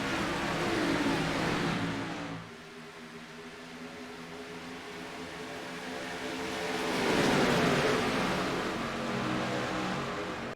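Race cars roar at Talladega Superspeedway in a sim racing series finale, engine drones swelling loud, fading briefly, then surging back as the pack passes, with a broadcast commentator's voice faintly underneath.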